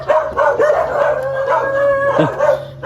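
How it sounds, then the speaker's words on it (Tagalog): Dogs bark and howl nearby in a short burst of overlapping yips and drawn-out wails, loud and clear over a quiet background. "Tapang ng mga aso."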